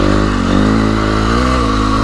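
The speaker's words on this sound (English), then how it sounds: "I am not able to ride this bike as aggressively as I can my bike." Close motorcycle engine on a dirt trail, droning steadily with slight shifts in pitch as the throttle changes, loud and continuous with no talking.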